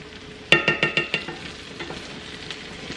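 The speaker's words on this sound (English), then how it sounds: "We're going to let this butter cook down" Corn cooking in melting butter, opening with a quick run of six or seven sharp clinks or pops, then a soft steady sizzle fading lower, nearby and without speech.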